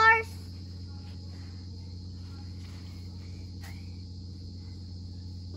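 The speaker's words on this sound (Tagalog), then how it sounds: "Kuliglig. Tawag doon. Insect. Cricket. Crickets." Crickets in Mindoro, Philippines, keep up a faint, steady, high-pitched trill over a low background hum, with a few brief soft clicks and a short louder sound at the very start.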